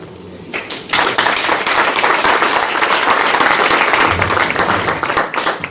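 A conference audience applauds after a talk at a 2014 young professionals conference, loud dense clapping that swells in after a brief quieter moment and carries on steadily to the end.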